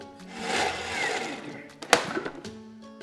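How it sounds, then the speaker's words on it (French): A kitchen blender purées cooked peas with about 50 grams of chicken stock, a steady whirring motor rising and settling over a few seconds, then a brief clatter and bump near the end. "Donc on va mixer nos petits pois."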